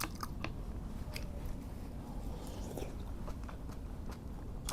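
Soft, wet chewing and biting of homemade rice cake soup with chestnuts, close to the mouth, repeating in an irregular rhythm over a faint background hum.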